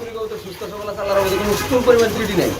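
Pigeons at a pigeon-selling place give low, throaty coos beneath a man's close, ongoing talk.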